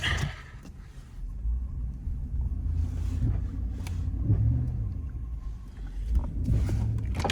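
A 4x4 truck drives around a turn in two-wheel drive, giving a steady, close low engine rumble with occasional bumps and clunks rising out of it; no one talks.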